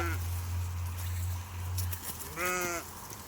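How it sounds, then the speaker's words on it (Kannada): A single sheep or ram gives one clear, nasal bleat near the end, close and fairly loud over a low steady hum and quiet background noise. "ನಮ್ಮ ಟಗರು ನಮ್ಮ ಕುರಿ ಈ ಥರ ಇದ್ದಿದ್ದಾವಣ್ಣ"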